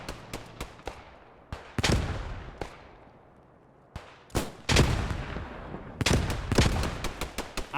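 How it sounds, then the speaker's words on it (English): A rapid volley of grenade blasts in the Post Scriptum battle game, sharp bursts arriving in irregular clusters, some close and loud, others thinner and farther off, with no talking. "Absolute volley of grenades there."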